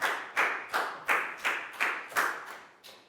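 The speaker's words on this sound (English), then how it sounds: "And a big round of applause for Bangpon." Applause in a Year 4 classroom comes as about nine even, sharp bursts of clapping at a steady rhythm, fairly close and moderately loud, with no talking.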